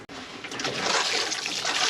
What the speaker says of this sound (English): let me put some water on it.